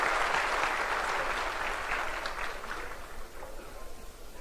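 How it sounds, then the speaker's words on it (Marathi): Crowd applause at a political rally in Nagpur greeting Devendra Fadnavis: a dense burst of clapping, loud at first and gradually fading over several seconds, heard alone. "मी आपणा सगळ्यांना विनंती करेल की जोरदार टाळ्या वाजवून आपल्या देवेंद्र करावं।"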